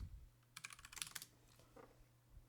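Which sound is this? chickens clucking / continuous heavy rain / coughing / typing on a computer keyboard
typing on a computer keyboard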